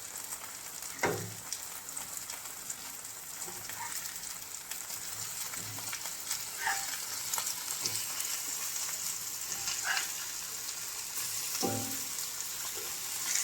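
Brinjal frying in oil for a Virudhunagar-style ennai kathirikaai, a steady low sizzle broken by several clattering knocks as the pieces are turned over in the pan.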